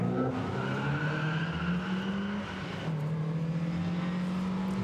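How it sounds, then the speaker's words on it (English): An MGB sports car powers up the Chateau Impney hill climb at a 2017 event, its engine drone loud, close and steady for several seconds, with the pitch dipping and rising as the car accelerates. "It's a very rapid MGB."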